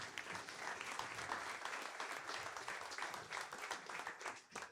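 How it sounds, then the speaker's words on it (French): Conference audience applauding with steady, moderately distant clapping that rises and falls slightly throughout, heard alone without talk. "je pense qu'on peut les applaudir à nouveau"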